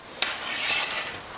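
A plov being stirred in a camping kazan cauldron: a single sharp scrape of the utensil, then a steady close sizzling hiss of the frying contents, with no voices.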